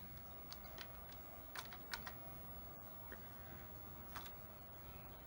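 Fingers typing on a TRS-80 Color Computer keyboard, a sparse run of faint, irregular key clicks over a steady quiet background hiss.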